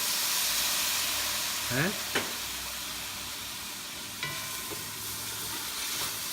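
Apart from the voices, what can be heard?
fish sauce added to sizzling oxtail kare kare pot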